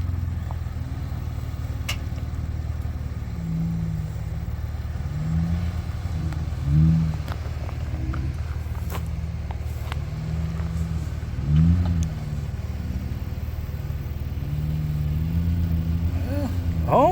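An off-road vehicle's engine rumbles low and steady as it creeps down a hill at an adventure park, with a few brief revs and surges over a constant drone, heard close.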